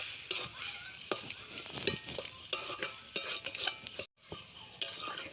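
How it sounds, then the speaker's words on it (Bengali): Potatoes for an egg potato snack being stirred with chaat masala in a pan: uneven metal spoon scrapes and clinks over a light sizzle, with a brief silent gap near the end. "এবার আমি ভালো করে এটা মিশিয়ে নেব আলুর সাথে"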